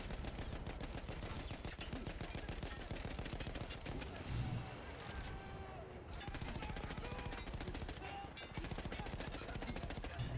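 Dense, continuous automatic gunfire in a Battlefield 1 battle, a relentless rapid stream of shots with scattered distant bursts, briefly thinning around the middle before resuming at full intensity.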